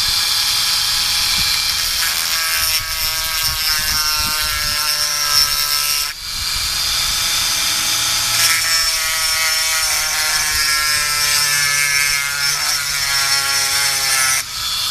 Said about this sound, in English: I'm going to use a Dremel